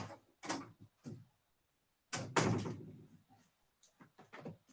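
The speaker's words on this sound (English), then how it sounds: "I'm going to shut the door." A door is shut indoors with a couple of soft clunks and one firmer thud, plus small rustling knocks around them in an otherwise quiet room.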